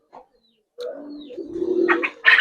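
Old-breed Giribaz pigeons give a short, close cooing call that swells and breaks off, with a faint chirp before it in a quiet space.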